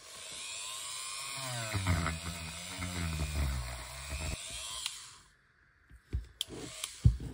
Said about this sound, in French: avec mon petit Dremel, là, avec une petite brosse tournante, je vais nettoyer l'intérieur de la gorge